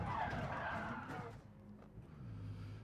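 A race car in Gran Turismo Sport at Monza brakes hard and skids, tires squealing loudly over engine noise before the sound fades to a lower rumble.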